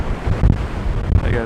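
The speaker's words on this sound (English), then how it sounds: "There go the waves." Waves breaking at a beach beside a pier on a windy day, low rumbling surf mixed with strong wind buffeting the microphone, loud and close throughout.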